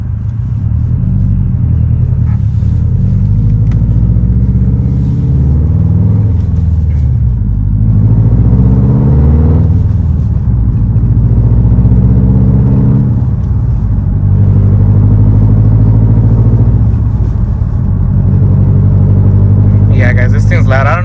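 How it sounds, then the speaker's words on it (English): A 2021 Subaru STI with a loud exhaust is heard from inside the car with the windows up, its deep engine rumble rising and falling as it pulls through the gears while someone talks over it. "Here, let's see if I could go through the gears."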